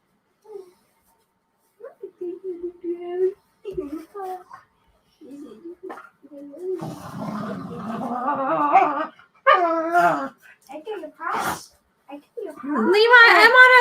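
Small dog barks, yips and whimpers in short bursts close by indoors, with quiet gaps between the outbursts.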